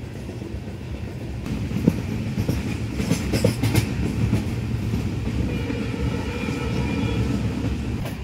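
The Alipurduar to New Jalpaiguri tourist special train runs steadily, heard from inside a general-class coach as a loud, continuous rumble with rhythmic clickety-clack of wheels on rail joints.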